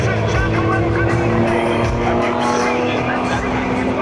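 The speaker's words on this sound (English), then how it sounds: "Accelerating with this Waco Mystery Ship." Waco Mystery Ship airplane accelerating 30 feet above the ground at an air show, its engine a loud, steady drone with a strong sustained tone throughout.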